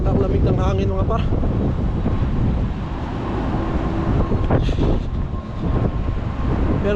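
Cold wind gusting across an outdoor microphone in Canada, a steady, loud, broadband roar that barely lets up, with a speaking voice partly buried beneath it.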